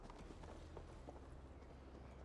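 Rhythmic hoofbeats of a horse ridden at a steady pace in Assassin's Creed Valhalla, fairly quiet and muffled, with a low rumble underneath.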